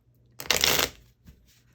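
Tarot cards being shuffled close up, one crisp riffling burst lasting about half a second, followed by a softer brief shuffle in otherwise quiet surroundings.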